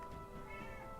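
A cat meows in one drawn-out, tonal cry lasting about a second, steady and close, with no talking over it.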